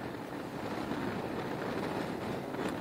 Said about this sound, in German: Es ist natürlich so eklig windig heute.